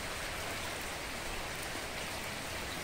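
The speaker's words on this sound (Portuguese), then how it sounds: "E tá chovendo, ó. Ó a água correndo," Soft, steady hiss of rainfall outdoors during a car wash, with water running and trickling nearby, continuous and even throughout.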